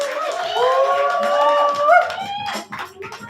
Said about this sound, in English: Keep on clapping till I make to that microphone.